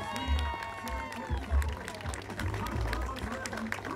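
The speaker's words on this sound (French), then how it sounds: "Eh bien, c'est Mamzelle Coco Nanouk, sous vos applaudissements." Audience applause at a prize-giving show, a moderate steady patter of clapping from a crowd mixed with loud speech over it.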